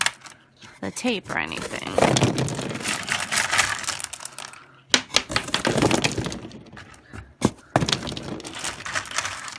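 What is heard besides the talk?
rocks dropped into a cardboard and foam core number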